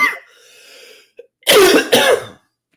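Two sharp, loud coughs in quick succession, close by, after a brief quieter breathy stretch.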